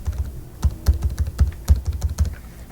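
Fingers type on a computer keyboard during data entry, a close run of crisp, uneven key clicks in quick bursts with no voices.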